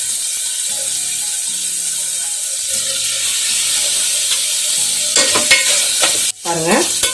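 Mutton with chopped tomato fries in groundnut oil for a street-style kari dosai, a loud continuous sizzle with a hiss of steam, punctuated near the end by rapid clanking spatula strokes against the pan.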